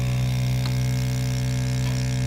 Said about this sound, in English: Press the vacuum button.